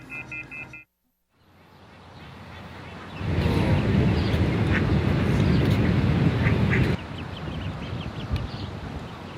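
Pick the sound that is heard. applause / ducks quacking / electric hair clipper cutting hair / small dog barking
ducks quacking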